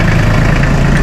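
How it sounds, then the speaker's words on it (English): A Massey Ferguson 1825E compact tractor's 24 hp engine idles loudly and close by, holding an even, throbbing low drone with steady vibration and no voices. "start the tractor, raise the loader up"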